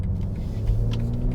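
A 2020 BMW M340i sedan cruising on a mostly straight road, its engine a steady low rumble and drone that swells slightly midway, heard from inside the cabin with no voices.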